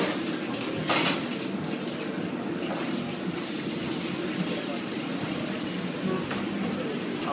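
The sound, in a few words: cooking with a wok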